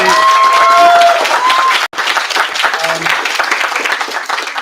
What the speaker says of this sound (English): We get a big round of applause for Sharon and for James